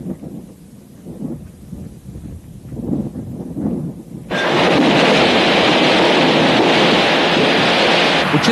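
Sea surf at the Titanic's departure port, muffled and low at first, then swelling suddenly into a loud, steady wash of waves blended with heavy wind buffeting the microphone.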